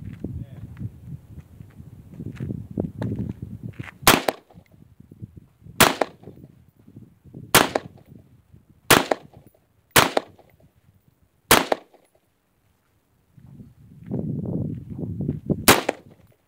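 Sharp AR-15 rifle shots ring out one at a time at an outdoor shooting session, seven loud cracks spaced a second or two apart, with people talking quietly before and between them.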